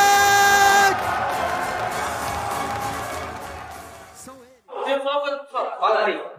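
An esports arena crowd roars and cheers loudly and continuously, with a sharp tonal burst at the start, then drops to near silence before shouts and a voice over the PA break through.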